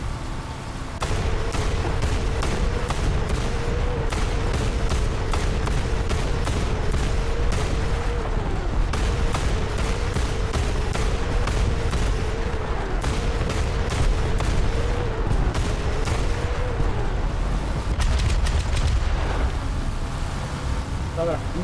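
Rapid automatic gunfire in the video game Mad Thunder, a long run of sharp repeated shots over a steady engine-like drone, with someone talking over the action.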